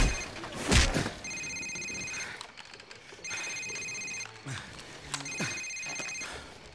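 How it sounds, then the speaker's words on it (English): In Call of Duty 4: Modern Warfare, a cell phone rings with repeated bursts of a steady electronic tone separated by short pauses, and there is a thump and some faint background noise. "Sir, it's his cell phone."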